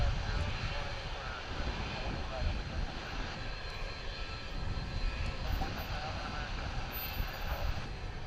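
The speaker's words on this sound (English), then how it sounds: "as we listen to this A300 pulling in" An Airbus A300 airliner taxis in at DFW airport, its engines giving a steady loud roar and whine throughout, with a person talking over the noise.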